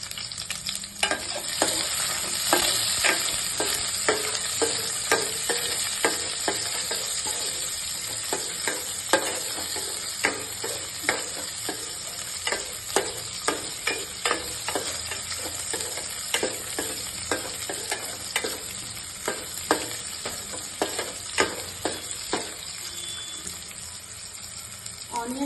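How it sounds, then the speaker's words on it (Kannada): Chopped onion fries with cumin seeds in a pan for green chicken chops, a soft continuous sizzle broken by regular scraping clicks of a spoon stirring, close and fairly quiet. "ಆನಿಯನ್ ಕಲರ್ ಚೇಂಜ್ ಆಗೋ ತನಕ ನೀಟಾಗಿ ಫ್ರೈ ಮಾಡಬೇಕು."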